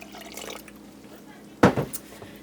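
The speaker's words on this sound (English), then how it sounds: "So I think I'm just going to add in a little liquid." Liquid is poured into a pot of curry soup with chicken breast, brown rice and garbanzo beans: a short, close splashing pour after a quieter stretch with faint voice, then a brief trickle.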